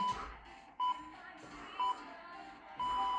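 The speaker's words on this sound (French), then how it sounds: "quand vous entendez hein, les bips, ça veut dire que c'est bientôt fini" Three short electronic workout-timer beeps sound at regular intervals during a cardio session, followed by a longer sustained tone, heard over a quiet room with faint background movement.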